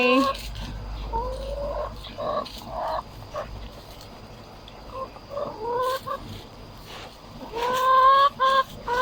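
Egg-laying hens on a small natural-style farm cluck and squawk up close in bursts, while people talk and call to them nearby.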